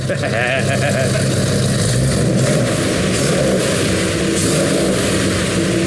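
A custom rebuilt hot rod with a Viper transmission runs with a steady, loud engine drone that holds throughout, with faint talk mixed in.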